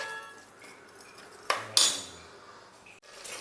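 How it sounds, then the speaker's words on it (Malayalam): Fried chicken pieces go into a pot of chicken curry with two close metallic clanks of a utensil against the pot, heard over a low, steady background. "ഇനി ഇതിലേക്ക് നമുക്ക് പൊരിച്ച് വെച്ച ചിക്കൻ ചേർക്കാം"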